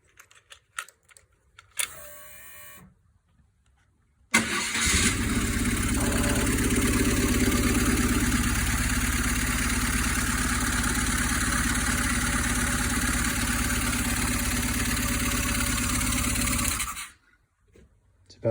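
A 1995 BMW R1100 GS motorcycle engine with a freshly replaced head gasket cranks and catches after a few quiet clicks, then settles into a loud, steady, close idle before shutting off.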